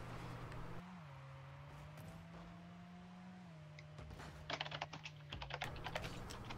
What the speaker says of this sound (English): who is this person that is typing? That's Flying Spider. The mechanical